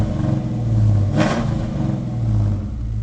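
A 2001 Ford Mustang GT Saleen idles with a deep, throaty exhaust rumble, briefly revving up in the middle before settling back to a steady burble.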